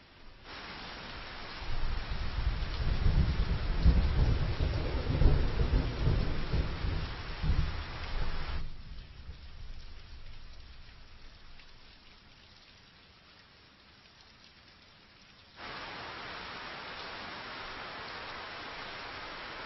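Steady rain with rolling thunder, loud and heavy at first, then easing to a softer patter before the downpour hiss returns; no voices.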